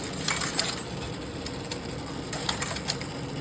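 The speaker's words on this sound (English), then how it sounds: "The brass molds assembled here in a line." Brass matrices of an old linotype machine clink and click as they drop into a line, a run of light metallic taps with a steady mechanical hum underneath.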